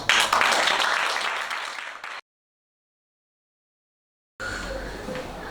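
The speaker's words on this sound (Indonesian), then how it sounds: "Tepuk tangan." Applause at a school gathering after a closing prayer, a burst of clapping that fades, cuts to silence for about two seconds, then resumes as a steadier room clamour.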